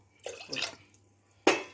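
Water is poured into a pot for boiling a herbal decoction, arriving in two short splashing bursts with a brief pause between them, close and fairly clear.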